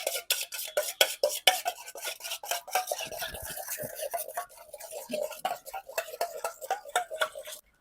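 A spoon scrapes and stirs quickly around a bowl while ingredients are mixed, a close, rhythmic rasping that keeps going with faint talk underneath.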